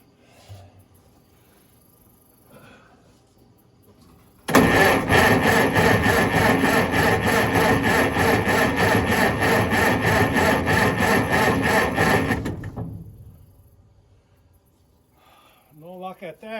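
A Massey 35 SP combine engine cranks on full choke with gas in the carburetor and no ether. It grinds loudly and rhythmically for about eight seconds without firing, then stops, leaving faint background sounds.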